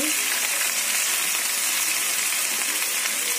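Ground cumin, turmeric and salt fry in hot oil for a fish curry, producing a dense, even sizzling hiss that holds steady and loud throughout.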